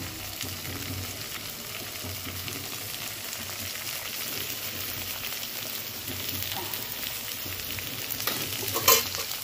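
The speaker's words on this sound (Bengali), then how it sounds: "এটা ভাজা ভাজা করে তারপরে যে ম্যারিনেট করা চিকেনটা আছে তা দিয়ে দেবো।" Tomato, green chili and ginger frying in a pan over a wood fire, a soft, steady sizzle running for several seconds with faint stirring and a brief clatter near the end.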